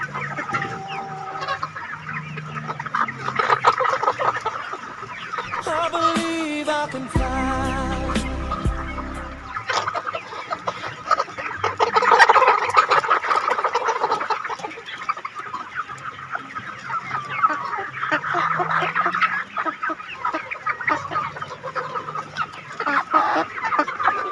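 A flock of chickens on a small farm in northeastern Thailand clucks continuously nearby, many overlapping voices rising and falling, with one loud, drawn-out harmonic call standing out midway before the busy clucking resumes.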